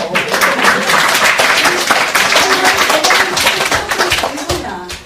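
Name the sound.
audience clapping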